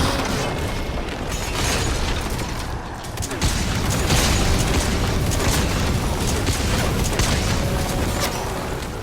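A rocket launcher firing and exploding in Metal Gear Solid, heavy booms and rumbling blasts over continuous loud gunfire and chaos, with a short lull in the middle.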